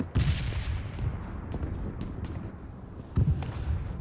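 Several sharp gunshots crack at intervals in PUBG, at Pochinki, with distant rumbling and a brief burst of fire near the start and another near the end.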